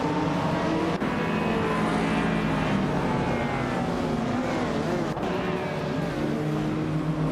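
Several race cars at a race start on Grand Valley Speedway Short Track, a 1982 Ford Falcon Group A car among them, give a steady loud layered engine drone with rising and falling revs for the whole stretch.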